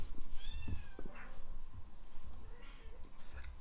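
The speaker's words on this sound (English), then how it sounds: "every time we start ghost videos, the cats start like an alarm." Cats meow several times in a row, with short rising and falling cries spread across the stretch over faint background noise and a few low bumps.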